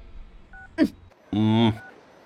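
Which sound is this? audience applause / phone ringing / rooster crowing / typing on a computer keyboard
phone ringing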